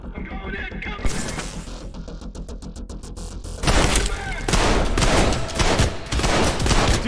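Gunfire from the first-person shooter game Trepang2, rapid bursts of loud shots and impacts over a busy game soundtrack, with a person talking intermittently.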